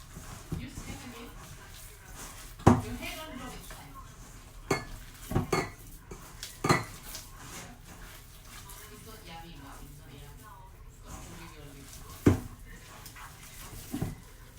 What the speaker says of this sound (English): mix it till we get very nice and soft dough.